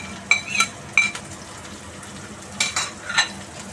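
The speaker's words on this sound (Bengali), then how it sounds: "এই যে ভাজতে ভাজতে মোটামুটি গোল্ডেন কালার এসে গেছে" Onion and green chilli fry quietly in a pan, a soft low sizzle under a few sharp clinks and scrapes of a spoon against metal.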